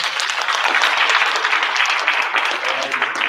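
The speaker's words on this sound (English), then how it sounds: "Let's give them one more round of applause." An audience at a school board meeting's awards claps and applauds steadily throughout, a dense crowd of hands with no voices standing out.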